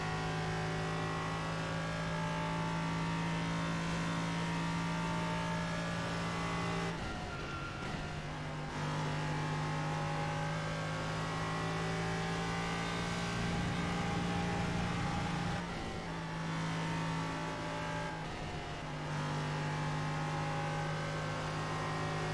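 Race car engine in the iRacing simulator, droning steadily with sustained tonal harmonics as it takes corners, dipping briefly on braking and shifts before climbing again, loud and continuous with no talk.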